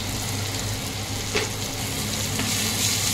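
Half a spoon of ginger garlic paste and a small chopped tomato sizzle briskly in hot oil in a pan for potato dum, a steady close frying hiss with a couple of light stirring scrapes.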